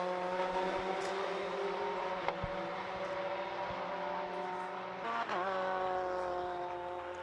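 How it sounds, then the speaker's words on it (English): Race car number 257 in a Fun Cup endurance race at Oulton Park roars past, its engine a sustained loud whine with harsh bumps and rattles as it hammers over the curbs. "So there goes the 257. Hammering over the curbs."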